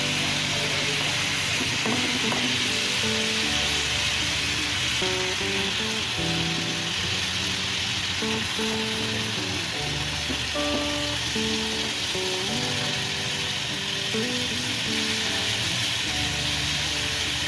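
A whole hilsa fish sizzles and crackles steadily in hot oil in a pan over medium-low heat, a dense continuous frying hiss with faint scattered clinks throughout.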